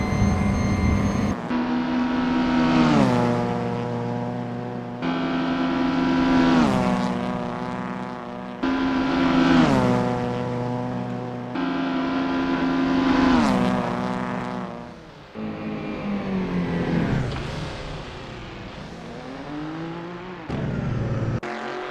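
Vintage 1960s touring race cars in Assetto Corsa warming up at Preluk 1974, several loud engines droning with repeated rising revs and gear-change dips, one car pulling away after another.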